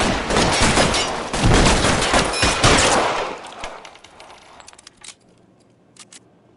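Covering fire in a shootout in the L.A. Noire video game, dense overlapping gunfire crackling loudly for about three seconds, then thinning out into a few scattered, fading shots.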